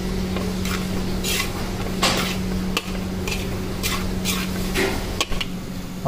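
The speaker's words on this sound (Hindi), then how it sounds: "अच्छे से मिक्स करके लेंगे" A ladoo mixture with green cardamom powder and yellow sugar is stirred and mixed in a pan, giving a steady run of scraping, rasping strokes with occasional clinks of the utensil, close up and without talk.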